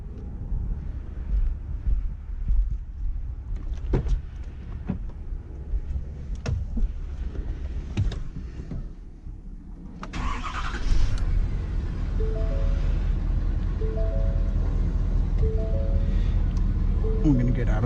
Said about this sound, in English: we're gonna go ahead and turn the truck on